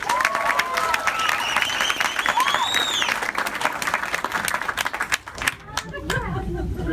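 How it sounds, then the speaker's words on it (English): A theater audience at a screenplay reading for The Room applauds the volunteers with sustained crowd clapping, some cheers and whoops rising over it, and chatter as the applause fades near the end. "round of applause for our volunteers"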